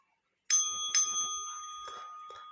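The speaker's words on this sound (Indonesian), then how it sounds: "Saya nggak pernah berpikir untuk bikin lonceng seperti ini." A small bell rings twice in quick succession, clear and bright with a long shimmering decay, close by in an otherwise quiet room.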